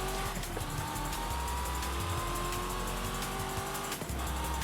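A thin, steady car engine whine in Forza Horizon 5 drones over continuous low rumbling and noise, with faint clicks and bumps, fairly quiet throughout.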